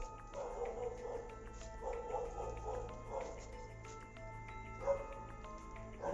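A dog barks and yips at night outdoors near an old morgue site in Clark, Pampanga, with repeated short barks at a moderate distance over a constant low hum, faint and without clear talk.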